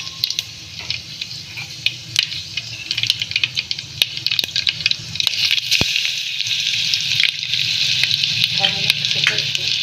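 Mustard seeds crackle and sizzle in hot oil: a steady, bright frying hiss with scattered sharp pops, close and moderately loud, over a low background hum, with the sizzle growing denser toward the end.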